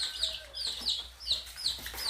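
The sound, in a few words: chickens clucking, fighting over a frog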